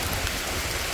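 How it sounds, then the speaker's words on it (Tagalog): Heavy rain falls at the San Rafael River, a dense, even hiss of downpour filling the whole brief moment without any talking. "Ang lakas ng ulan."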